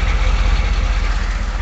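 A 6.2 liter Chevy diesel engine idling, a loud, close, steady low rumble with an even throb and no voices.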